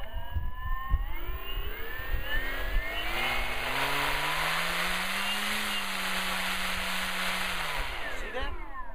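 Electric SPAD Gnat RC model airplane motor held at full throttle, a loud, close, steady whine that climbs in pitch at the start and winds down near the end.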